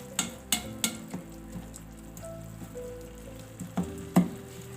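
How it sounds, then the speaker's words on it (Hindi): Masala filling for chicken buns frying in oil in a pan, a steady close sizzle with several sharp crackles and spatters standing out, alone without talk. "इसको भूनती हूँ, साइडों में थोड़ा सा ऑयल आने लगेगा"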